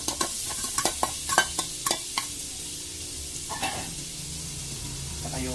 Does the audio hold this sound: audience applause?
no